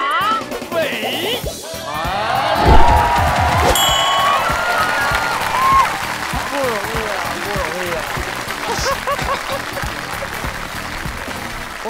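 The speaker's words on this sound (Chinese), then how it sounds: "我们完全配不上这么热烈的掌声" Studio audience applause with some cheering at a televised sketch comedy contest, a sustained dense clatter of clapping filling the whole stretch, with voices speaking over it near the start.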